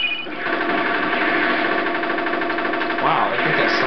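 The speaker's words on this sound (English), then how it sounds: "What is this? A motorcycle!" Motorcycle engine in the video game Wargames Defcon 1, a steady buzzing, rapidly pulsing mid-pitched drone running continuously at moderate loudness, with a voice speaking over part of it.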